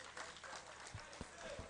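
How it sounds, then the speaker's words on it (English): Spectators at an amateur boxing league semi-final in a Lagos arena clap after a bout, a faint, scattered applause with a few sharper thumps and crowd murmur mixed in. "both boxers deserve another round of applause"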